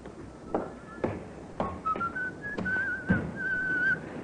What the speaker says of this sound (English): It's the check you've been waiting for, that fella there, whistling.